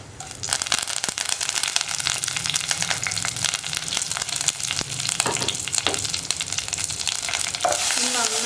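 Fenugreek seeds, dried red chillies and curry leaves fry in hot oil for a pumpkin curry, giving a loud, steady sizzle with crackling pops and a few stirring scrapes, close and continuous with no talk.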